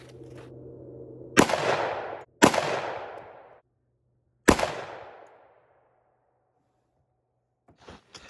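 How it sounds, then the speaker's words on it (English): Three loud, sharp gunshots from a Sig P320 XTEN 10mm pistol fired outdoors, each with a long decaying echo, the first two close together and the third after a pause. "These are my last 2 shots with the Sig."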